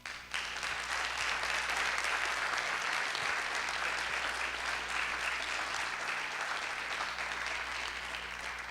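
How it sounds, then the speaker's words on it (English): Sustained applause from an audience at the close of an evening speaking event, a dense, even wash of clapping hands that holds steady for several seconds before tapering slightly at the end. "give our fantastic speakers one more round of applause"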